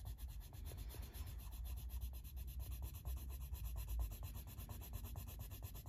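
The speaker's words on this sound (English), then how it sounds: "now I am going to burnish with the ivory." An ivory colored pencil burnishing a colored-pencil drawing of a polar bear, making soft, quick, rhythmic rubbing strokes on paper, close and quiet, with no voices.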